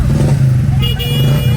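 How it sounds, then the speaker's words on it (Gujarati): Motorbikes going by on a road in hot weather, a loud, close engine drone with a brief horn toot, heard from near the roadside. "જો પેલા બાઈકો વાળાને જવા દે પછી જવાનું"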